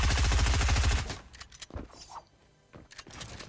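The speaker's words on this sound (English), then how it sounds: "Blue shotgun." Gunfire from a blue shotgun in the video game Fortnite: a loud, dense burst of rapid shots for about a second, followed by scattered quieter bangs and clatter of in-game action, with no talking.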